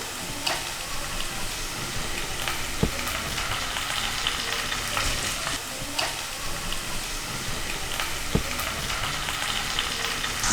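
Ingredients sauté on the lowest flame in a pan for a Gujarati spiced rotla dish, giving a continuous moderate sizzle with occasional spatula scrapes and a couple of sharp taps.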